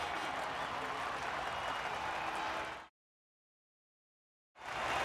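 Trackside crowd applauding and cheering after a Formula 2 race, a steady dense wash of clapping that cuts off abruptly into silence and then resumes.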